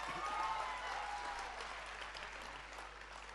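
An audience at a Hindi comic poetry gathering (hasya vyang kavi sammelan) claps together in a soft, continuous wash of applause that fades slightly toward the end, heard from some distance.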